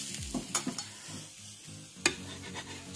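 Blueberry gluten-free vegan pancakes fry in a pan, a faint sizzle under close clinks of a utensil against the pan and a few scraping stirs and knocks.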